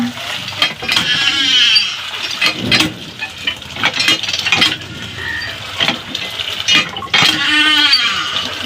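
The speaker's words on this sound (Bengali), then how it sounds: "আমার ছাগলের খাওয়া দেখবেন" Goats bleat loudly and nearby while being given grain feed and water, with a few distinct wavering calls among shuffling and clattering sounds.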